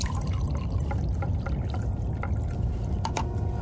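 Coffee is poured into a cup in an old radio drama, a short liquid trickle with a few light clinks over a low background hum, no talking.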